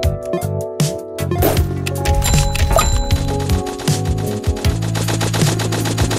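Rapid machine-gun bursts from a minigunner tower in Roblox Tower Defense Simulator, layered with metallic dings, clangs and coin-drop game effects in a dense, continuous stream of loud gunfire.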